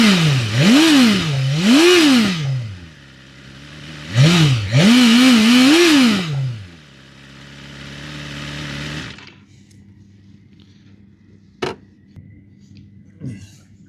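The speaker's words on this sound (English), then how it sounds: "It's got a lekker growl once it starts dropping revs." A 2025 BMW S1000RR superbike engine fires up and revs sharply several times, the pitch rising and falling, then settles into a steady idle with a couple of clicks.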